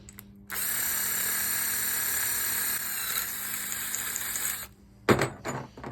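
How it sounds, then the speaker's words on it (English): A power drill whines steadily at high speed for about four seconds while reaming out a slightly undersized hole on a 2004 Dodge Dakota, then stops, followed by a few sharp clattering knocks. "I'll just ream this out just a little bit, because this drill bit's just a smidge too small"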